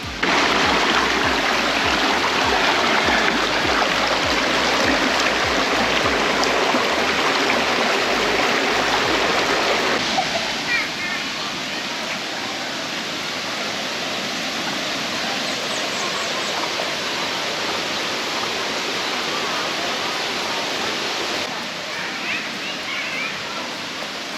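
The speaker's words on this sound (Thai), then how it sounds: "มีลำธารด้วย" A stream in the countryside of Suan Phueng, Ratchaburi, Thailand, rushes steadily with a dense, unbroken watery hiss. It is loud and close at first, then eases slightly but stays continuous.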